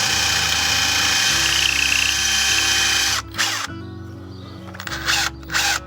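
A power drill used during roof renovation, its motor whining steadily for about three seconds, then stopping and restarting in shorter bursts, close and loud with no talking.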